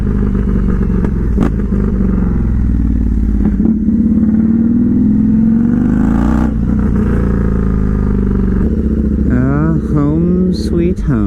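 Indian FTR 1200 V-twin motorcycle with a full Toce exhaust and tune, riding hard: a loud, steady engine roar close by that rises through a gear change, with brief revving bursts near the end and a voice talking over it.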